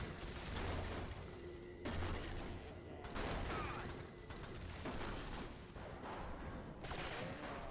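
Gunfire in a video game comes in dense bursts of shots and booms, loud and near, with short pauses between volleys and faint background mechanical noise.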